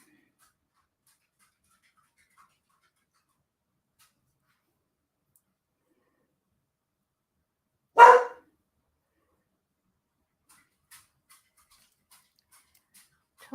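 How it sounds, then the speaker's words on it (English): A pet dog gives a single short, sharp bark in an otherwise quiet room, one loud isolated burst midway through with near silence before and after. "that dog loves to let me know she's around"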